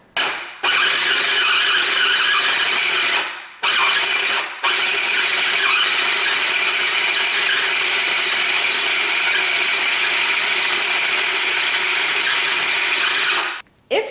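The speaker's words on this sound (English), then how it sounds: "all you're going to do now is put all of these ingredients in a food processor and let it" A food processor blends a dough of dates, banana, chocolate and peanut butter for protein balls, its motor whirring loudly and steadily with a couple of brief stops and restarts.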